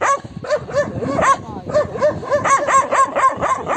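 Several dogs bark and yip in rapid overlapping bursts, loud and close, with a steady clamor throughout.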